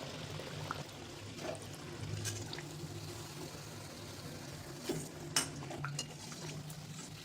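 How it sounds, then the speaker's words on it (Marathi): Aloo tikki burger patties fry in oil in a pan, a low, steady sizzle with occasional clinks and scrapes of utensils against the pan, fairly quiet and with no talking. "सुरुवातीला फुल फ्लेमवरती तळून घ्यायचं, म्हणजे आतपर्यंत छान क्रिस्पी होत पाहिजे"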